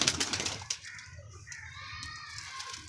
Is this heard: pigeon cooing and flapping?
yes